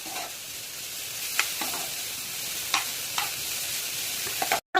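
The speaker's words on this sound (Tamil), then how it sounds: "எல்லாத்தையும் கலந்து விட்டுக்கலாம்." Tomato sauce for cabbage Manchurian sizzles steadily in a hot frying pan while a utensil scrapes and stirs with occasional soft clinks.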